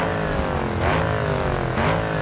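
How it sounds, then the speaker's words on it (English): Petrol Audi SQ8 with a 4-litre V8, in the BeamNG game, revving loudly and steadily with two rising surges and crackling backfire pops near the end of each. "So the petrol SQ8 has a 4-litre V8 engine,"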